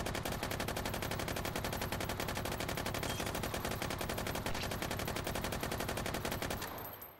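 Sustained automatic gunfire sprayed through drywall in the VR shooter Hot Dogs, Horseshoes & Hand Grenades, a rapid unbroken stream of loud evenly spaced shots lasting several seconds before abruptly stopping.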